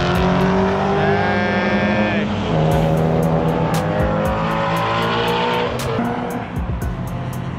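A loud Ford Mustang race car roars around the Laguna Seca track, a close, harsh engine drone that rises and falls through shifts, with rapid ticking and a brief squeal partway through.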